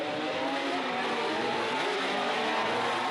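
A 1974 Formula 1 race car engine screams at high revs through the Monaco street circuit, a loud, continuous, rasping whine that rises slightly in pitch near the end, with no voices.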